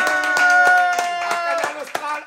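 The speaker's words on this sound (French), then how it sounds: "je vous demande toutes et tous de faire un tonnerre d'applaudissements" Audience applause closing a Réunion cuisine television programme: scattered, fairly close hand claps with distinct individual strikes over a sustained tonal music bed, fading slightly near the end.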